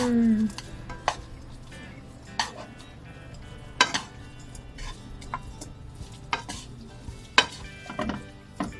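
Sweet potato stems being stir-fried with sesame oil, with a soft steady sizzle under scattered sharp clinks and scrapes of a utensil against the pan, close up and without talk.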